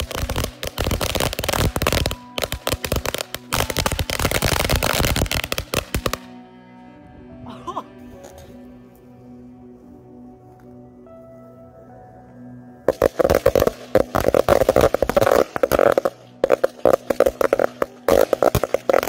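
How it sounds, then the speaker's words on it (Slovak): A firecracker carpet of 200 bangers goes off in a dense, continuous crackling barrage of sharp bangs, then stops for a stretch of near quiet before a second loud run of rapid bangs starts up. "zapalím ho a uvidíme, že teda mal by ísť postupne do radu"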